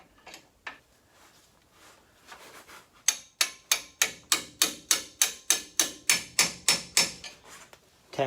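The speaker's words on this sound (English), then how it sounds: "Tapping the bolt home." A threaded strut retaining bolt on a 4Runner's suspension is tapped into place with a hammer: about fifteen evenly spaced metallic knocks in a steady rhythm, loud and close, after some lighter handling clatter.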